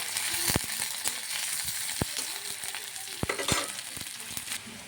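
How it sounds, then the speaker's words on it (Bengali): Pabda fish fry in oil, sizzling and hissing steadily in a hot pan, with sharp pops and crackles bursting out every so often. "মাছটা ভাজা হয়ে গেছে, তো কাঁচা লঙ্কা দিয়ে দিলাম"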